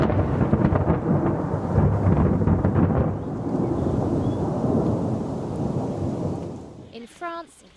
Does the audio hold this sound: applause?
no